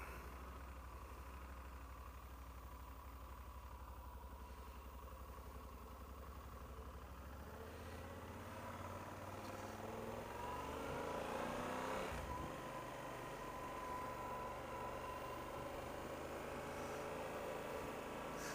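A Yamaha Super Tenere motorcycle on brand-new tyres rides off steadily, its engine a continuous mid-pitched drone that rises in pitch and loudness as it picks up speed, with wind noise and no talk.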